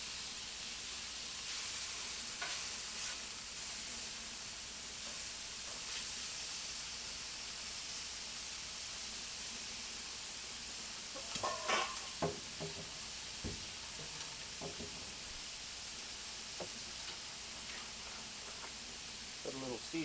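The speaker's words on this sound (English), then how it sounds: "Just want to brown the meat for right now." Meat browning in a hot pan gives off a steady, close sizzle and hiss, with a few brief clinks and stirring knocks toward the end.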